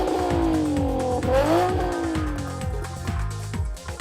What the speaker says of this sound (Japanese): 378馬力のパワーとともに心地よいエキゾーストサウンドを奏でる。